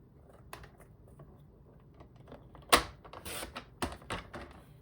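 Paper card stock being cut to size with a trimmer while making a fold-flat purse card, heard as a sharp close slicing snap followed by a few scattered clicks and shuffles at low level.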